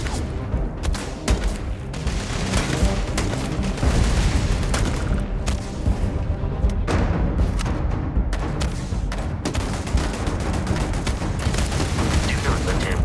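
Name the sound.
rockets being fired in the video game Starfield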